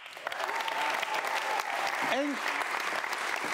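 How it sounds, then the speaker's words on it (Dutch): Warm applause from a conference hall audience greeting a speaker coming on stage, a full steady wash of clapping with a voice briefly cutting through partway. "Graag een warm applaus voor Sharon Dadandami."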